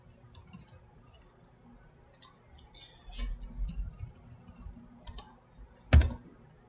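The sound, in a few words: typing on a computer keyboard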